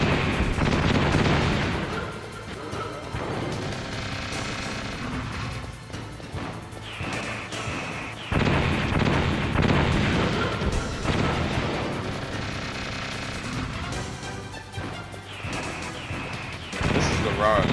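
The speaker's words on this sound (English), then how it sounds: "shoot your missiles" Missiles exploding in the video game Metal Gear Solid, heard as loud, repeated booming crashes and blasts layered over dense game noise, with a person talking over part of the action.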